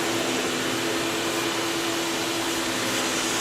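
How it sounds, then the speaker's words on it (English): A Citizen R07VI CNC Swiss lathe idles with its live tools spinning, giving a steady, close mechanical whir with a constant tonal hum and broad airy hiss throughout. "We do have the live tools running right now"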